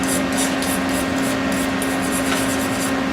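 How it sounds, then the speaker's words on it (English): A brand new stainless steel wire brush scrubbed back and forth over metal during repair work on a Bridgeport power draw bar, giving a steady rhythmic scratching rasp over a constant low hum. "brand new stainless brush. Brush that."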